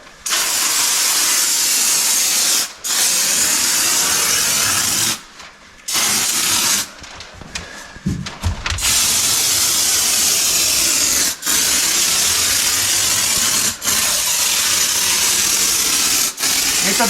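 An aerosol can of spray foam hisses loudly and continuously while insulating a van floor, cutting out in several brief pauses and a longer break with handling noises before the steady spray resumes.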